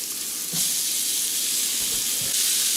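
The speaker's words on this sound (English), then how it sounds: "we're going to go ahead and dump our vegetables in it" Vegetables sizzle loudly in seasoned olive oil on an electric griddle, a dense continuous frying hiss that swells as they are dumped in, with faint stirring scrapes and no talk.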